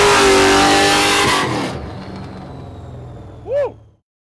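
Nissan 350Z Formula Drift car with an LS3 engine revs loudly at close range, then the roar cuts and decays into a fading rumble, with a brief sweeping whoop near the end.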